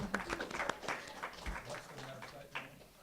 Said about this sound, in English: let's clap it up for Rabbi Noah